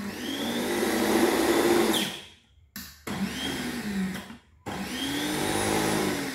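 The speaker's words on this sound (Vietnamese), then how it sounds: "Cối chạy rất là êm luôn mà rất là sắc luôn" A Toshiba electric meat grinder whirs loudly at close range, cutting out briefly twice and starting up again each time.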